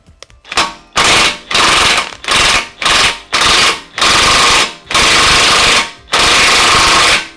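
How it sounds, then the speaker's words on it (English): A power impact wrench hammers off a 17mm ball joint nut on a Lexus IS300/GS300 rear toe arm, firing in about eight loud rattling bursts of varying length, close up, with no talking. "Next thing we're going to do is going to shoot off the 17mm ball joint on the end here."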